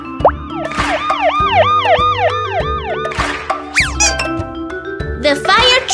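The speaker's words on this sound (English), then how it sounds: "The police car!" A cartoon police car siren wails in rapid rising and falling sweeps, loud and close, over bouncy background music with a voice calling out briefly.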